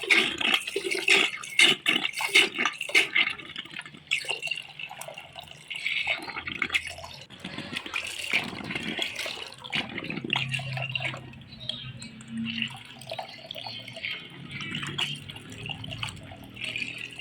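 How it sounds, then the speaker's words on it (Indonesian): Grated bananas are washed in water and drained in a container, with close splashing, dripping and trickling of water, rhythmic sloshes at first, then a softer running flow. "Jadi dicuci seperti ini dan ditiriskan dalam wadah."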